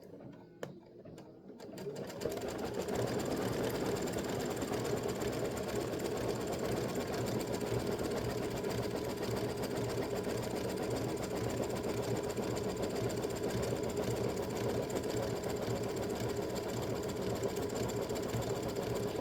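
A sewing machine runs a spaced-out satin stitch, starting after about two seconds of quiet handling and then whirring steadily and loudly at close range with a fast, even mechanical rhythm.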